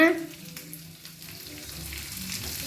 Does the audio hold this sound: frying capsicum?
yes